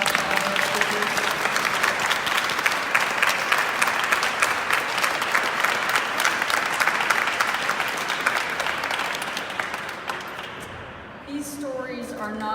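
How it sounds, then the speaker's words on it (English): Sustained enthusiastic applause from an audience at a mental health awareness event, dense clapping for about ten seconds that tapers off as a voice begins speaking at the end. "Can we get another round of applause for all our speakers?"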